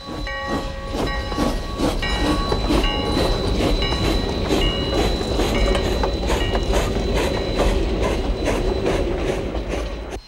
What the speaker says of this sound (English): Here the veteran steamer pulls a special Hooterville Cannonball train into the station